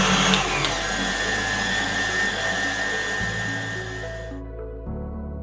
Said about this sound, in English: I'm adding my butter block by block, and I still have my whisk attachment on my KitchenAid.